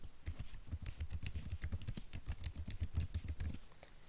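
Rapid keystrokes on a computer keyboard while a password is typed in, a dense run of close, crisp clicks with no voices.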